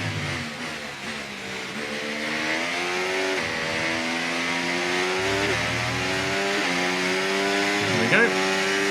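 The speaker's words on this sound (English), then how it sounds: "Right, this time, don't be quite so eager on the throttle pedal, Chesnoid." A Formula 1 car engine in the F1 24 racing game, whining loudly and climbing steadily in pitch through the gears, with a brief lift and a gearshift blip near the end.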